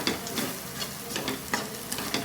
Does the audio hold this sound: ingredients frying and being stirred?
yes